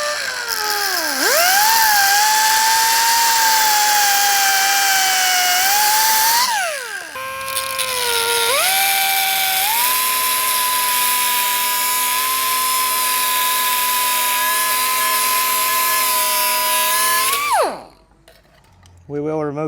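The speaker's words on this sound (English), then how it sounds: "So I'm just gonna cut the end off of it." A power tool whines at high pitch as it cuts the end off a Ford Bronco strut stud in a garage, with two long continuous passes that dip in pitch under load and a short pause between them before the tool winds down.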